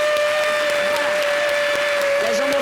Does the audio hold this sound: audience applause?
yes